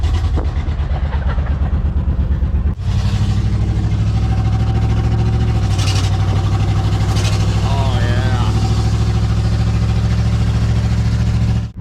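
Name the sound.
truck engine idling with muffler fallen off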